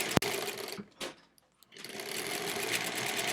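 Domestic sewing machine stitching through thick layers of quilt fabric with a quarter-inch seam, a fast continuous whirring run that stops briefly and then starts again, close and clear.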